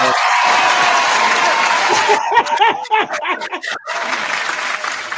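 A crowd at a live mixshow breaks into applause with some laughter, loud at first and then thinning into scattered claps and chuckles.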